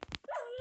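A Minecraft dog whimpers as it dies in the video game, a few short yelping bursts followed by a drawn-out falling whine, close and clear.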